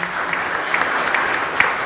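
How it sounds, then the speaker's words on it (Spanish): Congregation applauding a parishioner's birthday at Mass in the San Miguel parish church, a brief, steady roar of many hands clapping with crisp individual claps standing out. "Un fuerte aplauso para Gladys, que hoy cumple años."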